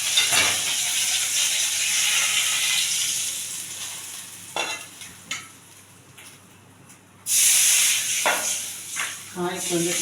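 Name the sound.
cumin frying in ghee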